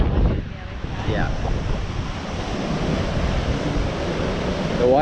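Surf washes against the shore at Cathedral Cove on the Coromandel coast of New Zealand at high tide, a continuous broad rush of waves mixed with wind buffeting the microphone.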